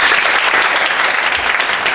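Audience applause in a studio program, a brief, dense and steady burst of clapping heard on its own.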